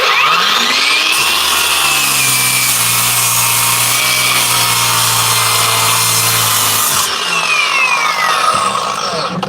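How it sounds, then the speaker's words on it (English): A battery-powered 9-inch angle grinder runs loud and close as it cuts, its high whine dipping under load before spinning back up and winding down near the end, with no voices over it. "Ah, it's a bad grinder."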